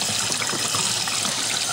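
Warm bath water runs and trickles steadily over an infant in a baby bath, a continuous close splashing wash with no pauses throughout.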